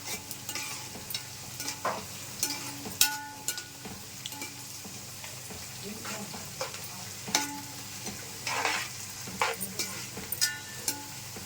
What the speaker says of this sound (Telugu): కొంచెం వేగాలండి ఉల్లిపాయలు